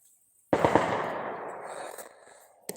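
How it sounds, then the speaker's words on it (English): New Year's Eve fireworks booming outdoors in the background, one loud sudden bang with a long rolling echo that fades over two seconds, followed by a sharper crack at the end. "if you hear a lot of booms and bangs in the background, it's because people are out shooting off fireworks"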